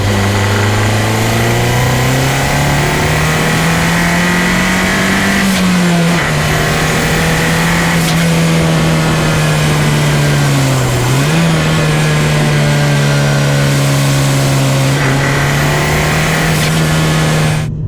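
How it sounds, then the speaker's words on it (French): A Peugeot 308 GTi engine holds a steady, loud idle with slight rises in pitch, a continuous mechanical drone with occasional faint crackles from the hot exhaust. "vous avez des petites pétarades à l'arrière quand la voiture est bien chaude"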